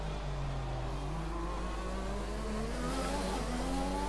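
Williams Formula 1 car engine in the F1 2020 racing game, a loud steady high-pitched whine held at full throttle with rising tonal harmonics, continuous and close throughout.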